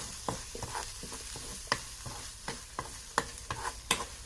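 Chopped onions frying with chili powder for a jackfruit stir-fry, a quiet sizzle under repeated sharp scrapes and taps of a spoon against the pan at an uneven pace, close by, with nobody talking.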